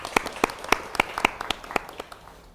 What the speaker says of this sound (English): So a round of applause to you guys.